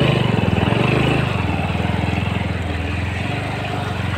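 A motorbike engine chugs with a rapid, even pulsing beat as the bike rides over stones on an off-road trail, loud and near, easing slightly in pitch partway through.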